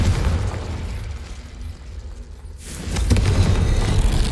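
A Confringo blast spell from the Hogwarts Legacy video game bursts in a sudden broadband boom, followed by a sustained roar after a brief quieter lull.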